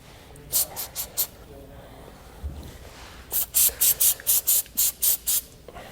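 Two sets of short, sharp bursts of lubricant sprayed onto a towel: three quick hisses, a pause, then a longer run of about nine evenly spaced sprays close by.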